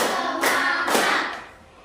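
A classroom of students clapping together in an ice-breaking game: three sharp claps in a steady rhythm, loud and close, the last one lighter before the room quiets.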